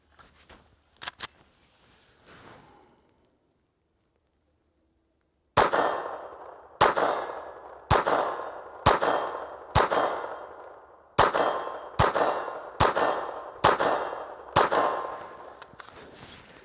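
Eleven sharp .22 pistol shots from a Glock 44 on an outdoor range, fired at a target 45 yards away, spaced about a second apart with ringing decay after each, loud and close, preceded by a few faint handling clicks.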